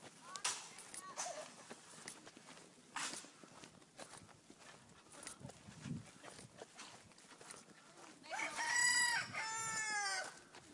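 A rooster crows loudly near the end, with chickens clucking and footsteps around them, and people talk intermittently throughout.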